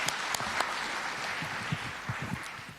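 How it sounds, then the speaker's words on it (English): A crowd claps steadily for learners at an Environment Day celebration, a soft patter of applause with a few sharper individual claps standing out. "A round of applause for the learners for the good job."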